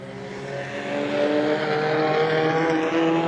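A National 4 speedway race car roars past the control tower on the straightaway at Gympie Speedway, its engine a steady, loud, harmonic drone that swells slightly as it nears.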